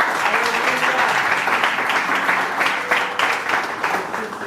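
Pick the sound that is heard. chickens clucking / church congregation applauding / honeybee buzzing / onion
church congregation applauding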